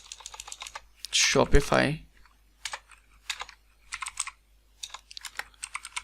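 Typing on a computer keyboard comes in quick clusters of light clicks, broken by a short spoken word near the start and followed by several separate bursts of keystrokes.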